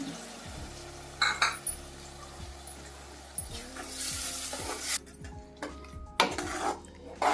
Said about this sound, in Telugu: టమాటాలు, జీడిపప్పు పేస్ట్ చేసి పెట్టుకున్నాం కదండి, ఇది వేసేద్దాం. ఇందులోనే అది కూడా వేసి ఉడికించుకుందాం.